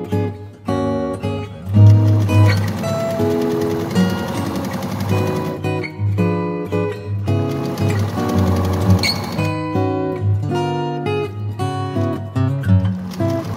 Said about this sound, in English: And then continue top stitching along our hem.